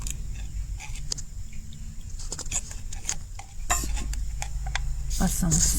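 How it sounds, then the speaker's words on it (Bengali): A spoon stirs ghee and sugar into an eggless carrot, beetroot and semolina cake batter in a bowl, giving scattered clinks and scrapes over a low background hum. "খুব ভালো করে মিশাই এটা"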